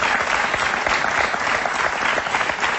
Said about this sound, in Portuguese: Um aplauso para os dois e obrigada por estarem connosco.